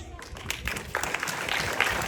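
Applause from an audience at a school honouring event in Kathmandu, a dense patter of many hands building after a soft start, with some talk mixed in.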